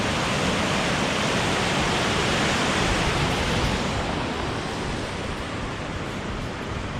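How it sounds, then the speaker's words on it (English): Small creek waterfall at Baldwin Creek on the Kettle Valley Rail Trail, a steady, dense rush of falling water, close and even throughout with a slight drop in level near the end; no voices. "Little waterfall."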